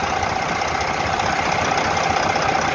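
A heavy Detroit 12.7 diesel engine in a Volvo VNL truck idles nearby, a loud, steady low rumble with a constant knocking rhythm and no voices.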